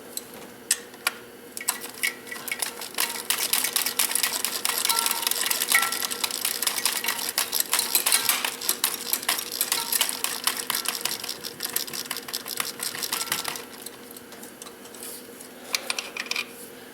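A socket wrench ratchets on a nut of a 3.8L engine's intake manifold, a long run of fast close clicking that speeds and slows, with short pauses, and no talking.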